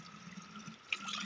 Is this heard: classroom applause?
no